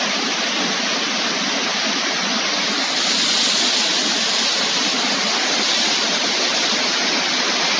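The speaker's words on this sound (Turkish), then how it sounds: "akan şelaleler, onların kazanları, toplama alanları." Waterfalls on the Kütahya highland plateaus pour steadily, a loud, dense, unbroken rush of falling water that swells slightly partway through, with no voices.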